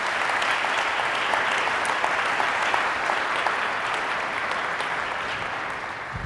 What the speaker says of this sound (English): A quick round of applause, if you wouldn't mind, for our panelists.